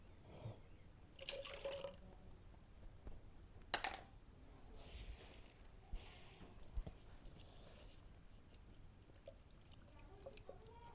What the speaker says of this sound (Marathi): पुन्हा थोडंसं पाणी घ्यावं लागते याच्यात